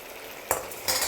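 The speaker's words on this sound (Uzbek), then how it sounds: "Baland olovda kartoshka qovurib olyapmiz" Potatoes fry in hot fat over a high flame for chuponcha, a steady sizzle broken by two brief scraping stirs of a utensil in the pan, close by and with no talking.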